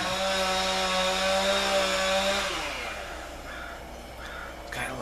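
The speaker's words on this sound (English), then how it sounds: "That chainsaw there" A chainsaw runs with a steady, droning buzz for about two and a half seconds, then cuts off, leaving quieter background noise.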